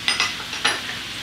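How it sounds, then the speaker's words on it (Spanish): Zucchini frying in a pan gives a short, soft sizzle broken by two brief bursts of stirring or scraping, with no voices. "Voy a cocinar únicamente por 3 minutos el zucchini."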